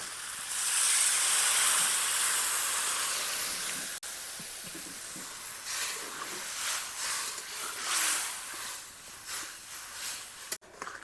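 A little water poured into a hot pan of mustard elephant apple curry bursts into a loud, close hissing sizzle of steam, which slowly fades into a softer, fluttering simmer with a couple of sharp clicks.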